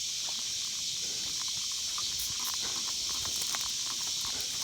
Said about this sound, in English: I like this sprayer. I like it when it sprays in the stream.